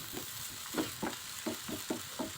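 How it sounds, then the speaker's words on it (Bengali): Onion and garlic frying with salt in mustard oil, a soft steady sizzle with repeated scraping stirs every half second or so, close and moderately loud, no talking. "সেখানে পরিমাণ মতো লবণ দিয়ে পেঁয়াজ ও রসুনগুলো ভেজে নেব।"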